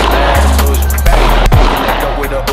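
Gunshots at an outdoor shooting range: a couple of loud, sharp reports a fraction of a second apart over a steady background.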